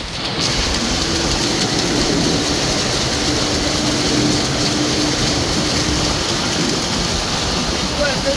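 Steady, loud motor drone of a boat running on a river near Manaus during wakeboarding, a continuous broadband roar with wind and water rush throughout, close and unbroken.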